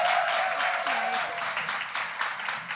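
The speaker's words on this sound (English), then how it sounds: "I just want one more round of applause for just like being in Harlem among all of these beautiful" Audience applause at a live women's dinner event in Harlem, New York, moderately loud clapping and cheering that slowly thins out, with a voice briefly audible early on.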